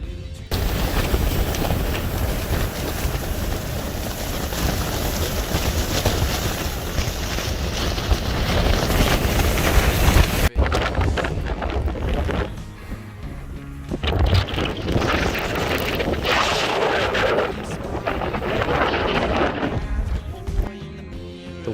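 Strong storm wind roars against a tent high on Denali's West Buttress, a dense, continuous buffeting rush with gusting surges and a sudden break midway, loud and close to the microphone.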